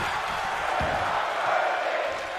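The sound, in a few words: wrestling crowd chanting "We're not worthy"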